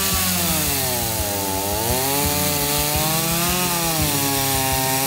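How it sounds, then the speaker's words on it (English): A small chainsaw with a blunt chain runs steadily and loudly, its whining pitch dipping and rising as it bites into waste wood, with no voices. "This small chainsaw's chain is blunt."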